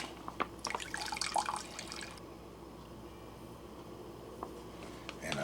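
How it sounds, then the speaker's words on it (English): Excess water drips and trickles off freeze-dried red beans and rice from an MRE pouch, a short burst of splashing and pouring up close that fades into quiet with a few faint drips. "all I'm going to do is drain the excess water off of that"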